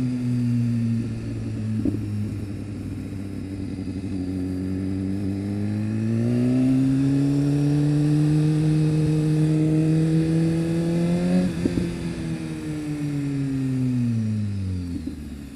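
A 2015 BMW S1000RR sport motorcycle accelerates while being ridden, its engine note climbing steadily through the revs in strong rising tones before dropping away near the end, loud and close throughout with no talk.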